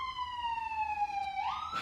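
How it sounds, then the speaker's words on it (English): An ambulance siren wails as the vehicle drives past outdoors, a steady tone that bends and rises near the end as it passes close by. "Don't mind the ambulance driving by"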